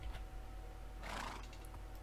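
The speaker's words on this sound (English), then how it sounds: "we don't need this horse anymore" A horse in the video game Minecraft lets out a single shrill whinny, faint against a steady low hum.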